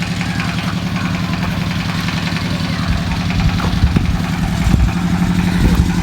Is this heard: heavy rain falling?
no